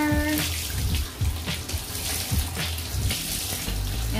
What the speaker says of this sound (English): And then we're just gonna keep rinsing them out. You see the water changing its color.